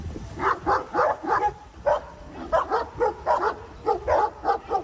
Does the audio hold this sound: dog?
yes